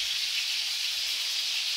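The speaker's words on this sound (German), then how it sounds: "Derweil werde ich für die Soße Schalotten schälen und anbraten." Shallots frying in a pan for a sauce, a steady bright sizzle and hiss that holds evenly at moderate loudness throughout, heard close with no talking.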